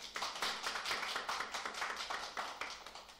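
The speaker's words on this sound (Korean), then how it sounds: "여러분 큰 박수 부탁드리겠습니다." Brisk clapping at an online residents' meeting, a small group applauding in fairly quick, even beats that carry on for several seconds, close and moderately quiet.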